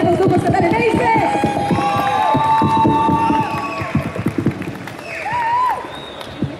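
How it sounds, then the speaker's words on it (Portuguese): At an anime convention in 2018, a crowd claps and cheers for performing duos, with dense applause and shouts rising over a hall's chatter and voices talking, then thinning out. "uma salva de palmas para as nossas queridas duplas catarinenses"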